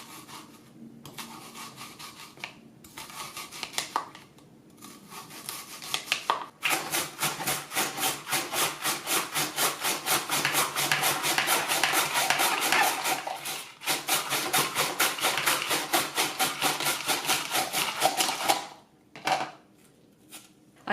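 An onion pushed through a Swissmar Borner V 1001 V Slicer Plus mandoline in a steady run of fast, rhythmic rasping strokes, after a few slower scrapes, heard up close and alone.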